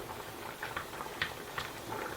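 Sliced and whole crushed garlic frying in plenty of olive oil in a pan give a soft, steady sizzle with faint pops and crackles, quiet and close.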